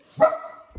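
A single dog bark rings out close by in a lively household that also keeps hamsters and parrots, followed by a short low thump.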